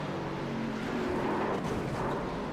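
Onboard engine of a race car at Iowa Speedway during a BRRA Cup Series Support Local Farmers 125, a loud, continuous droning motor note that shifts slightly in pitch, with no talking.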